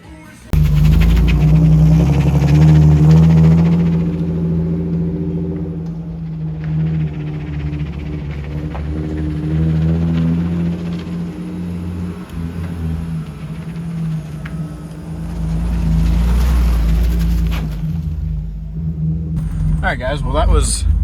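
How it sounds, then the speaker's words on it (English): A BMW E36 circles slowly at low speed, its engine giving a steady, fairly loud low rumble with a humming drone that carries through the whole stretch, swelling slightly near the end. "I'm gonna do a couple circles right here, see if the front end is chattering like it was before."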